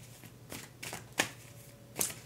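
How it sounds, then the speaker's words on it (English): Tarot cards are shuffled by hand in a few quick, crisp riffling bursts, close and fairly quiet, with short pauses between the flurries and no talking. "let me shuffle the cards and think about that word that I'm missing right now"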